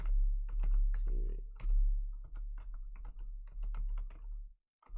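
Fingers tap rapidly on a computer keyboard, a close, steady run of crisp clicks that stops briefly near the end. Nobody speaks.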